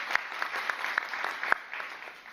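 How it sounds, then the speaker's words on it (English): Applause at a climate conference session, a moderately dense burst of clapping with several crisp individual claps up close, fading slightly toward the end. "applause, please."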